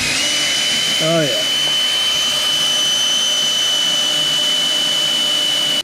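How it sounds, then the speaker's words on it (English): A power drill whines at a steady high pitch, boring into the front fender of a 1999 Ford F-450, running continuously and loud nearby; someone briefly speaks early on. "And then we should be able to drill now."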